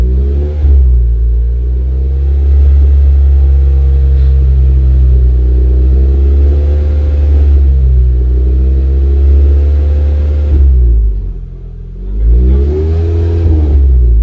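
A Renault Clio 3 RS engine fitted with a GT Performance exhaust line holds a steady 2000 rpm, a loud, continuous low rumble with a brief dip near the end.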